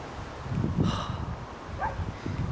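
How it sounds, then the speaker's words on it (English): Wind blows outdoors on a warm day, with soft gusty rustling of leaves and low microphone buffeting rising and falling, with no talking. "It's a bit windy, but still really warm and nice."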